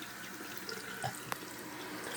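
Water runs from a tap into a denture cup in a bathroom sink, a faint steady trickle with a couple of small clinks, close and quiet.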